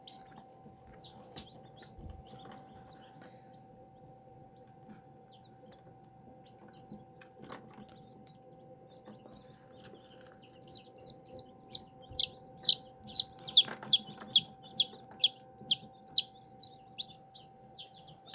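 Newly hatched chicks being handled and marked before going back into a brooder break into a run of about a dozen sharp, high peeping chirps in quick rhythm, close and fairly loud, after a quiet stretch with a steady background hum.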